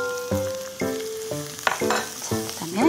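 Onion and carrot stir-fried in a pan, a steady sizzle broken by several rhythmic stirring scrapes and clinks, close and clear with no voices.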